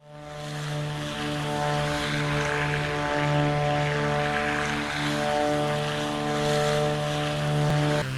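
Twin-propeller aircraft engine running in Microsoft Flight Simulator, a loud continuous droning hum with a steady buzzing propeller tone, holding unchanged throughout with no voices.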